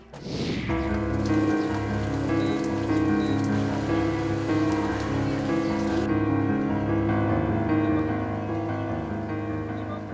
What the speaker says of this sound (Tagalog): Maghapon ang hinihintay ni Aling Lizel na tumila ang ulan